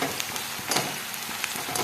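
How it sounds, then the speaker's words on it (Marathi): Onions fry in a pan for kande pohe, a steady close sizzle with light crackles and faint stirring, no voices. "छान भाजून घेऊयात कांदा,"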